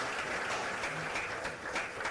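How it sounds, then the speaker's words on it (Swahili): Audience applause for the Minister of Finance at a live meeting with local agricultural investors: steady, dense clapping from a crowd, sustained at an even moderate level throughout. "Naomba makofi mengi sana kwake Mheshimiwa Waziri wetu wa Fedha"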